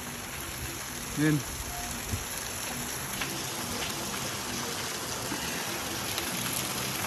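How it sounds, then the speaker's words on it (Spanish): Steady rain hisses down across the whole clip, with a brief spoken word early on and a faint vocal sound near the start. "Y mientras está lloviendo acá, viendo la lluvia."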